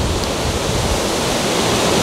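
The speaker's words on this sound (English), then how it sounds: "It's windy as all get out at the moment." Strong wind buffets the microphone with a constant, loud broadband roar and low rumbling, steady throughout with no voices.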